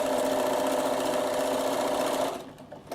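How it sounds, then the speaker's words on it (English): A Bernina sewing machine runs a long stitch while making a puffer vest, giving a steady, close mechanical whirr that holds for over two seconds and then stops, leaving faint clicks. "I'll just do a long stitch just to show you the idea."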